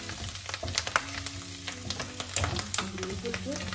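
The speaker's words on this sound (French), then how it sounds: "je vais faire tomber du persil dans la poêle encore chaude" Fresh parsley dropped into a still-hot frying pan gives a steady, close sizzle with scattered sharp crackles and pops, plus occasional stirring, throughout.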